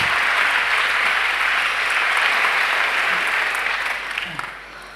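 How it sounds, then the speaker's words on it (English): Conference audience at the Women Deliver 2016 opening ceremony gives guests a big round of applause, loud sustained clapping from a large hall that tapers slightly near the end. "I think we can have a big round of applause to begin with for all our guests"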